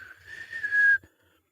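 A person whistles a single steady high tone, imitating a boatswain's whistle like the Captain Crunch cereal toy, close and clear, held for about a second before it stops.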